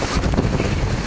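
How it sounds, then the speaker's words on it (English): Strong wind gusts roar during a thunderstorm in Traverse City, Michigan, a loud broadband rush buffeting the microphone for about a second. "That strong ass wind."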